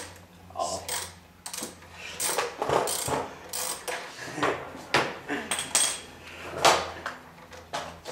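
A socket set ratchet clicks in quick irregular bursts while removing a Vectrix electric scooter charger, close and fairly loud, with faint metallic clatter between strokes.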